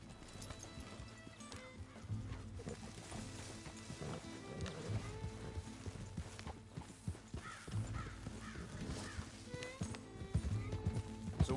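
Horse hooves clip-clop steadily in Red Dead Redemption 2, with neighing and whinnies over a busy game soundscape of ambient noise and background music, moderately quiet.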